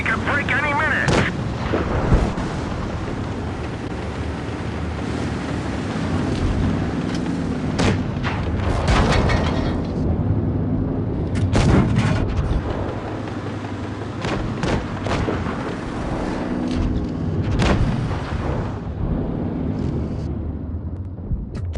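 Tank cannon fire and shell hits boom repeatedly in a tank combat video game, heavy blasts and rumbling impacts spread irregularly across a constant engine-like drone, with occasional radio voice in the background.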